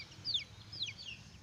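A hen gives two short, high, faint clucks over a quiet low background hum, with no voices.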